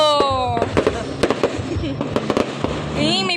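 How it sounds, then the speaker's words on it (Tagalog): Dense New Year fireworks and firecrackers pop and crackle in rapid bursts, with whistling rockets rising and falling at the start and end, loud and close while people talk and shout over the noise. "May paputukan naman eh."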